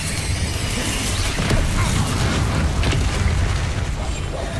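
A Confringo spell explodes in the video game Hogwarts Legacy, producing a loud, dense, continuous roar of blasts and crashing debris throughout, with no voices heard.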